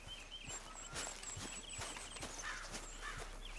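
Hooves of the legendary Arabian horse clopping at a steady walking rhythm in Red Dead Redemption 2, close and fairly quiet, with soft game ambience and occasional bird calls around them.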